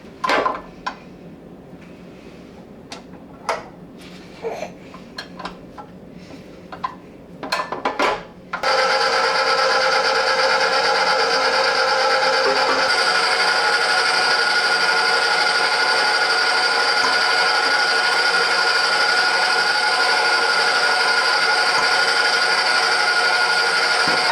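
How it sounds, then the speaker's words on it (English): A stand mixer with a dough hook works eggs into a pan de muerto dough, starting after a few scattered knocks and scrapes and settling into a loud, steady motor whir with a strong hum that runs without a break. "the dough hook attachment is taking way too long to mix in the eggs"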